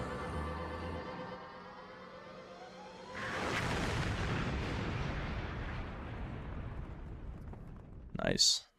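A large in-game explosion in Jak II on PS2 rolls in around three seconds as a broad roaring blast that sustains and slowly decays over a tonal music bed, closing with a sharp burst near the end.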